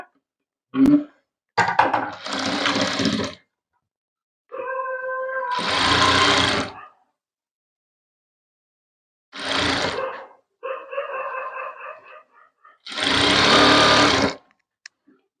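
A sewing machine stitches a saree being converted into a maxi dress, running in several separate bursts of a few seconds each with quiet pauses between; fainter whirring handling sounds fall in the gaps.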